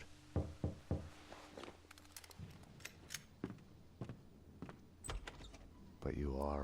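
Knocking on a door in the video game Max Payne 2, a few sharp raps amid other game sounds and a brief mechanical whir near the end.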